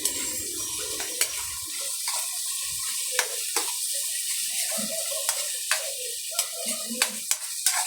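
Laing, taro leaves cooking in a pan, being stirred with a utensil that scrapes and clacks against the pan in repeated sharp knocks over a steady background hiss, close and fairly loud with no talking.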